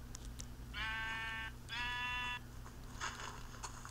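Sheep in the video game Minecraft bleat twice in a row, each a sustained wavering bleat of under a second, clear over low steady background game ambience.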